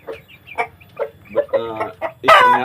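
A hen clucks repeatedly up close in short, choppy bursts, ending with a louder, rising squawk.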